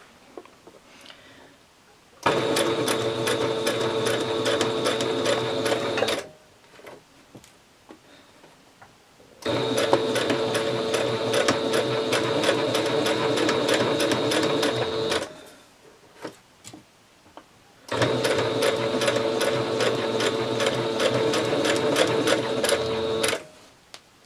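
A sewing machine stitches a 1/4 inch quilt seam in three bursts of rapid, even needle clatter, each several seconds long, separated by quiet pauses where pins are pulled, close and loud, with no talking.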